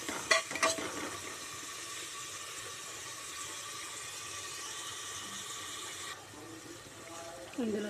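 Onions with ginger and turmeric fry in oil for a mutton curry, giving a steady, even sizzle that holds throughout, with a few sharp clinks at the start and near the end.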